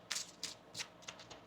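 Tarot cards being shuffled by hand, heard as about five quick, soft riffling bursts at a steady pace, quiet and close with no talking.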